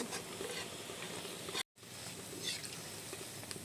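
Ripe jackfruit fritters fry in hot oil over a low flame, a continuous close crackling sizzle with faint stirring that cuts out for a moment partway through.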